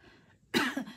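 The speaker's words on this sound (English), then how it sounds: "Oh my God, I have a cough." A single cough bursts out after a short lull, close and fairly loud, sounding once with no speech around it.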